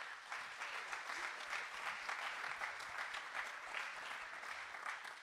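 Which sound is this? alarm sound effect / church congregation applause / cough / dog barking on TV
church congregation applause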